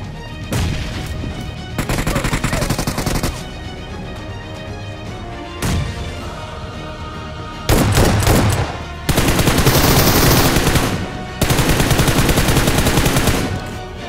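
Rapid shotgun blasts and bursts of gunfire ring out in BGMI, the mobile battle royale game, during an apartment squad fight. The loud shots come in dense clusters with short pauses between them, and no voice is heard.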